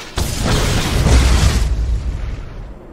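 Expelliarmus spell effect in the Harry Potter 5 PC game: a sudden loud magical burst that hits at once and then swells into a broad booming whoosh, rumbling on and slowly fading.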